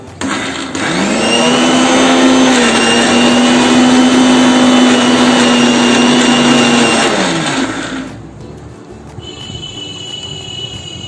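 A mixer grinder spins chaat ingredients in a small container: a loud, steady high whine runs for about seven seconds, then winds down and stops, leaving a quieter hum.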